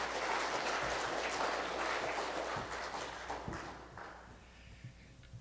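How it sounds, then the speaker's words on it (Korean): A church congregation applauds to welcome a pastor before a sermon, full clapping that gradually thins and fades out, leaving a few scattered claps at the end. "우리 큰 박수로 목사님을 환영해 주시면 감사하겠습니다."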